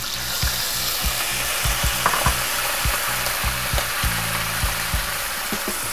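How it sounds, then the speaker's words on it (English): Wine poured into a hot frying pan beside browning chicken breast, giving a steady broadband sizzle and frying hiss with scattered clicks and stirring ticks throughout, close and fairly loud, with no talking. "Now we're going to pour the wine in."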